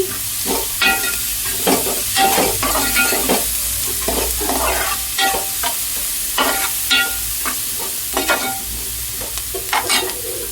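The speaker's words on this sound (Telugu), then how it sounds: "ఆనియన్స్ వేగుతూ ఉన్నాయండి." Onions fry in a pan with a loud, constant sizzle, while frequent scraping strokes of stirring come in an irregular rhythm over the whole stretch.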